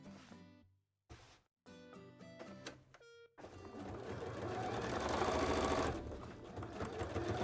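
A sewing machine runs top stitches on a cosplay costume piece. Several short electronic beeps come first, then the machine starts and hums and clatters steadily and loudly for about four seconds.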